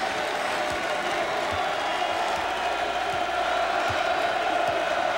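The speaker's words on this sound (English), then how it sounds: "Here comes the crowd." Basketball crowd at the Mullins Center, for the first game played there, roaring and cheering in a dense, sustained wall of noise with scattered shouts throughout.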